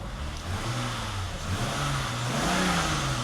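A cold car's engine revs gently and steadily, a mid-pitched hum that climbs slightly over a few seconds, heard up close with no talking.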